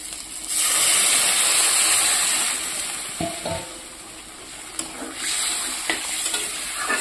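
Water poured into a sizzling spiced fish curry sets off a loud hissing burst of steam that eases into a steady bubbling sizzle, with a few spoon knocks near the pan.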